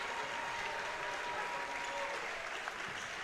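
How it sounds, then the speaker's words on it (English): At a boys' playoff basketball game between Saegertown and Sewickley Academy, a big gym crowd applauds starters leaving the floor with steady, moderately distant clapping and faint voices underneath. "they're applauding their starters who just came off the floor"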